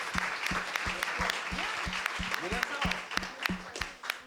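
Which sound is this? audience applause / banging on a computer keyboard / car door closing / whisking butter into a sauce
audience applause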